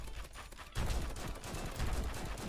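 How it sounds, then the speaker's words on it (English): Dense, continuous gunfire rattles in a Roblox game as players shoot at a giant boss, a quieter stretch breaking into loud, sustained volleys of rapid shots. "I'm just gonna stand here and shoot at him"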